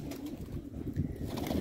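Pigeons coo softly in a loft, low murmuring calls repeating under faint background noise, fairly quiet and close.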